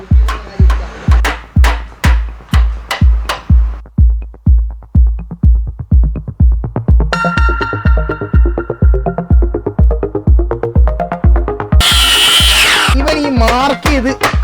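A hammer drives a chisel into a marked cut in wood to split it down the middle. Loud, sharp knocks repeat in a fast, steady rhythm, close by, with some brief ringing tones partway through.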